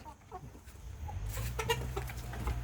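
Burmese chickens in a chicken pen cluck in short, scattered calls close by, over a steady low rumble of background noise.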